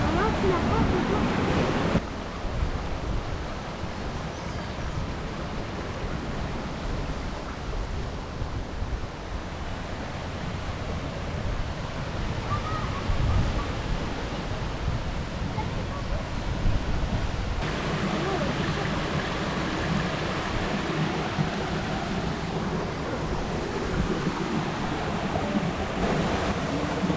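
Steady roar of Hawaiian surf breaking on rocks nearby, mixed with gusty wind noise buffeting the microphone, continuous throughout.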